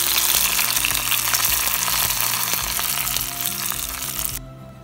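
Garlic being fried golden brown in hot oil as a tempering for yogurt raita sizzles and crackles steadily, loud and close, then the frying drops away abruptly near the end.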